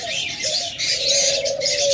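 A pair of leg-ringed doves coos with a steady, low, tonal call, layered with bright chirps from other caged birds throughout and no voices.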